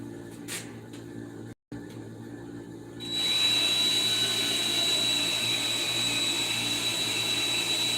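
Drill boring through the top of an aircraft wing's leading edge, a steady loud whine with a high tonal pitch starting a few seconds in after quieter shop noise.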